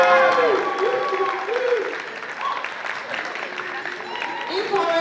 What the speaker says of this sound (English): you can give them a round of applause or any noise you deem suitable